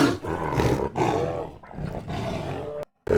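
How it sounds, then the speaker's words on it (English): Bengal tiger roar samples play in a sound design plugin, a series of loud, deep growling roars in separate bursts, with a brief silence before a final roar begins. "Here we're taking all the aggressive samples out of the Bengal tiger."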